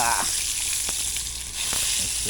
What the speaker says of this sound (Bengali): বেগুন ভাজিতে তেল একটু বেশি লাগে অবশ্য। তেল গরম হয়ে গেছে।